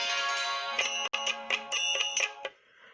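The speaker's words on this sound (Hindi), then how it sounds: "ये फोन आ गया।" Phone ringtone chiming in a rapid series of bright electronic tones, close and loud, with a brief cut midway before it stops.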